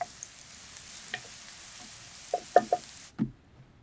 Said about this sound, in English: Fry the onion.